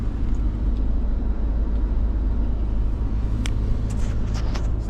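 Ford F-150 pickup truck climbing a mountain road in sixth gear, a loud, steady low engine and road rumble inside the cab, with a few faint clicks near the end.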